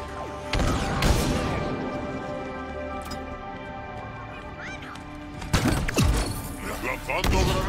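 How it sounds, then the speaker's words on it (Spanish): Bursts of rapid gunfire and impacts erupt in a chaotic Halo Infinite campaign battle, loud crashes at intervals, with shouted Spanish voices mixed into the action. "Cuidado con los disparos"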